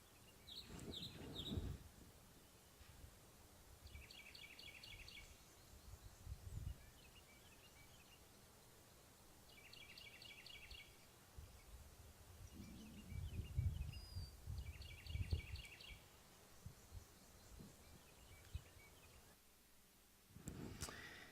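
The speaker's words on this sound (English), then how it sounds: "birdsong is, for the birds at least, all about territory" Faint outdoor birdsong with short, repeated chirping phrases recurring every few seconds over a soft ambient background, punctuated by occasional low thumps.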